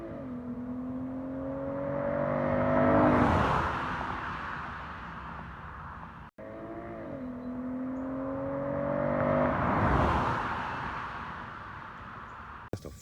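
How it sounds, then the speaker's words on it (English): A Dodge Challenger SXT with an AFE cold air intake passes twice, its engine rumble and tire noise swelling to a broad whoosh as it comes near, then fading as it moves away. "I love the way my car sound with this air intake on there"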